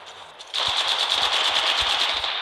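Rapid automatic gunfire in the mobile battle royale game Apex Legends Mobile, a sustained rattling burst of evenly spaced shots that starts abruptly and runs loud to the end.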